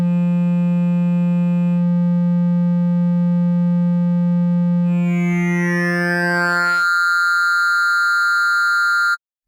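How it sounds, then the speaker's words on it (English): Oberon synth oscillator playing a wave sequence, interpolating between wave shapes 1 and 2: a steady, pure sustained tone whose timbre brightens partway through with sweeping upper partials, then settles into a brighter buzzy tone before cutting off abruptly. "We can listen to the oscillator playing through the wave sequence and interpolating between shapes 1 and 2"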